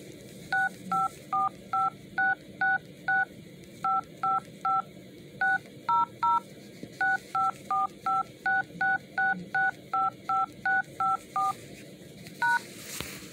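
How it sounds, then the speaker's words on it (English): A melody tapped out on cell phone keypad tones: a long sequence of short, evenly spaced electronic beeps in a bouncy rhythm with brief pauses between phrases, clear and close with no talking. "We're going to learn how to play music from your cell phone keys."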